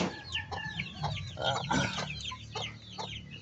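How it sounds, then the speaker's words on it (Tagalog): Several chickens cluck and murmur close by in a busy, overlapping stream of short calls, with no talking. "magpakain ako sa mga manok ko"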